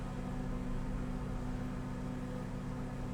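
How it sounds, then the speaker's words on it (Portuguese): A dewatering machine for sewer works running outside at night in cold weather in Santa Catarina, a steady droning engine hum with constant low rumble, unchanging and moderately distant. "Esse som que você escuta aí no final de uma máquina funcionando"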